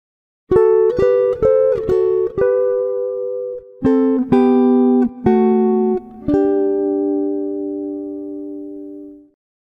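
Jazz guitar chord melody played on electric guitar, a run of clean plucked chords and single notes in quick succession, then longer sustained chords ringing out and fading, played alone without talk.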